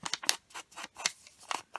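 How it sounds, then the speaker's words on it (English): Decorative edge scissors cut through paper in a quick series of sharp, crisp snips, about eight close, distinct cuts in an uneven rhythm with no talk. "scissors that cut different edges"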